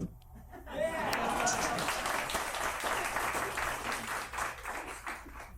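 A wedding audience claps after being asked to, a dense steady round of many hands lasting several seconds, with some voices and light laughter mixed in under the clapping.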